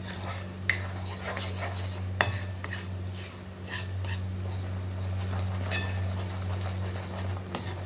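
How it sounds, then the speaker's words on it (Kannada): Metal utensil scraping and clinking against a pan while gram flour and ghee are stirred together for Mysore pak, a steady series of close scrapes with a few sharper clinks over a constant low hum. "ಚೆನ್ನಾಗಿ ಹೀಗೆ ಮಿಕ್ಸ್ ಮಾಡ್ಕೊಂಡು ಬರಬೇಕು."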